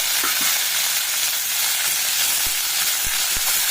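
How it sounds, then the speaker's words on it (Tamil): Onion, tomato and urad dal sautéing in about a tablespoon of oil, a dense continuous sizzle with a few soft stirring knocks, close and fairly loud, no voices. "ஒரே ஒரு டேபிள் ஸ்பூன் அளவுக்கு எண்ணெய் ஊற்றிடலாம் இந்த வெங்காயம் தக்காளி எல்லாம் வதக்கிறதுக்கு"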